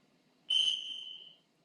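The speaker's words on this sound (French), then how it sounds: "Deuxième coup de sifflet, on s'arrête." A single clear whistle blast, held for about a second, signals the stop of an exercise session; it is fairly faint and heard alone against a quiet background.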